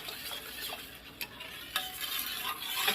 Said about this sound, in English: just keep stirring it until you get the